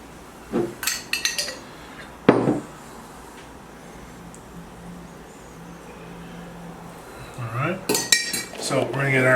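A spoon spreads marinara sauce across a hot pan, giving a few bright metallic clinks and scrapes in short bursts. Quiet stretches fall between them, with louder clatter near the end.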